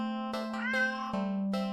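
A cat meows in a video game, one long drawn-out meow in the middle with shorter sounds on each side over a steady tone, clear and fairly quiet.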